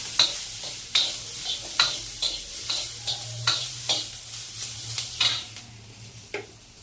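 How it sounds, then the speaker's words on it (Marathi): Onion frying in a pan for a chicken curry masala, a steady sizzle broken by regular scraping and tapping strokes of a spatula, close and clear with no talking. "चला आता आपण पहिला कांदा भाजून घेऊ आणि पटकन मसाला करून घेऊ."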